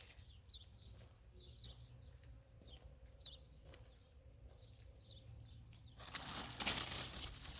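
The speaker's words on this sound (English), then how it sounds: "The bees are buzzing." Bees buzzing faintly outdoors in a vegetable garden with pumpkins and zucchini, soft intermittent hums passing close, then a burst of rustling noise at the end.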